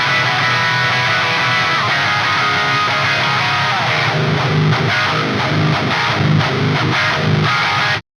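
Heavily distorted metal electric guitar played through a free amp plugin with a Blue Dragon cabinet, dense and loud throughout, with chugging palm-muted rhythms in the second half before it cuts off abruptly.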